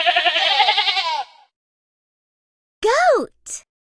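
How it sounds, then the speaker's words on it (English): Sheep bleating in a long wavering call, then two short bleats after a pause, close and clear with no talk. "Sheep."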